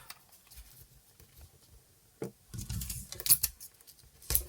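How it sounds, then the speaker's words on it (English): Sharp iris folding scissors snip through paper for a craft project, giving a few crisp close cuts in quick succession after a quiet stretch of rustling. "So let's cut this one off."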